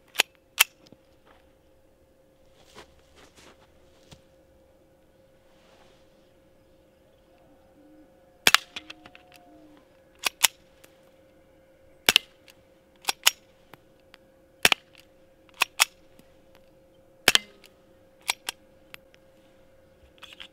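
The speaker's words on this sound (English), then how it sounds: "those little colibris, they didn't even penetrate the tough outer Kydex skin" .22 Colibri rounds fired at a Kydex knife sheath, heard as sharp, light isolated pops spaced irregularly over a quiet background, with a faint steady hum underneath.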